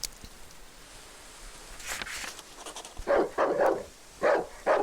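Dog barking in the dark survival horror game Darkwood, a run of separate warning barks in the last two seconds, moderately near, following quieter rustling noise.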